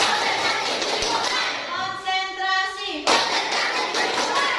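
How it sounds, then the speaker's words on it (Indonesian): Group clapping in a classroom concentration clapping game, with dense overlapping claps from many hands and a brief pause filled by a sustained tonal voice before the clapping resumes loudly. "Lanjut kita lagi ya. Tepuk konsentrasi."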